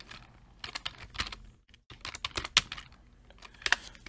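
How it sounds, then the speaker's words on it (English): Typing on a computer keyboard up close, quick irregular clusters of key clicks with a short pause in the middle, clear and isolated. "Now I'm just going to type this in here."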